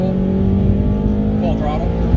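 A car engine held at half throttle drones steadily and loud throughout, a constant mid-pitched hum with slight wavering and no pauses.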